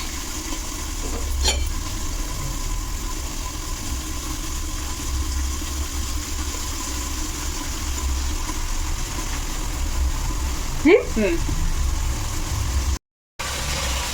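Boondi batter drops into hot oil and fries with a continuous hiss and soft crackle, with a few faint clinks near the start and end.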